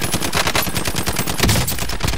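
Rapid automatic gunfire in Call of Duty Cold War on Rebirth Island Resurgence, a dense, loud, continuous burst of shots with no talking.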